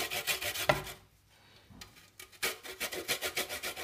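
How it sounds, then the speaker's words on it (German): Carrots are rubbed against a kitchen grater for a vegan banana carrot bread, giving rapid rhythmic rasping strokes up close, with a brief pause before the grating resumes. "Und jetzt reiben wir unsere Bananen fein da rein"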